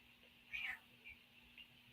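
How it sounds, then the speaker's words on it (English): A single short, faint meow from a cat, quiet and close, followed by soft silence with faint background hum. "Did you guys just hear my kitty go meow?"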